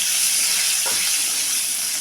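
Black cumin seeds with dried and green chillies crackling in hot oil for a Bengali water lily curry, a steady close hiss with a brief splash of added spices.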